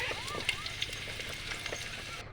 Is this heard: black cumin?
yes